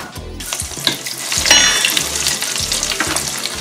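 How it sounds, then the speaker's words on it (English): Oil sizzles and crackles steadily as arancini (Sicilian rice balls) fry, with a few sharper pops and spatters rising partway through, close and fairly loud. "And now we're in the frying mode."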